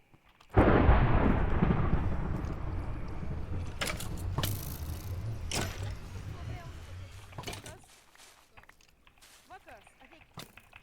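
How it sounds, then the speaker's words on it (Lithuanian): Lightning strike in the Minecraft video game: a sudden loud thunder crack bursts out and rolls on as a long rumble, fading gradually over several seconds before near silence. "Okei, kas nori pirmas gal žaibą?"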